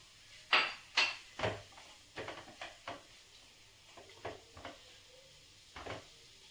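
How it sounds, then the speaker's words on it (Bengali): Pieces of chicken go into a pan with peas: a series of close clattering knocks and soft thuds, louder at first and then sparser, with a faint sizzle underneath. "এবারে আমি চিকেনটা দিচ্ছি এর মধ্যে"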